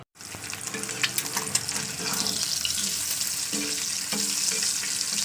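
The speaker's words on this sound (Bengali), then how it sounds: "তো চলুন ডিমটা ভাজা করে নিই।" An egg fries in a pan with a steady, close sizzle that starts abruptly and holds throughout, with a few scraping stir sounds early on and no speech.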